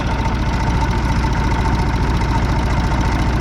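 An International 484 tractor engine idles loudly up close with a steady, rhythmic low knock and vibration throughout.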